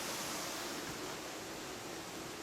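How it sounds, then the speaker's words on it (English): A waterfall heard from inside a mine adit at the Ashlu mines makes a faint, steady broadband roar, muffled and continuous, with no other sounds. "I can hear the waterfall right above me."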